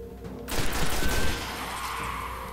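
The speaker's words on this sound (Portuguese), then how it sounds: "Tem que atirar e trocar de lugar, porque os tiros deles vêm atrás de mim." A sudden burst of rapid gunshots in the video game Destiny erupts after a quiet start, then trails into a rumbling echo and lingering noise, loud and close.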